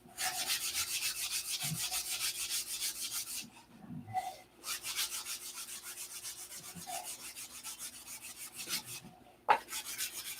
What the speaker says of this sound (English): Each grit of sandpaper takes out the scratches from the other grit.